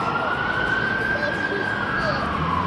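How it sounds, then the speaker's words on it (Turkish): An ambulance siren wails steadily along a city boulevard in Samsun, heard from inside a moving car over road and engine noise, holding a continuous tone that sweeps slowly across the clip. "Ambulans o ambulans."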